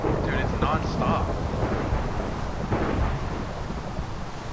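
Thunder and lightning in a Minecraft storm, a dense, loud rumble with rain and wind, and a voice speaking briefly over the noise near the start.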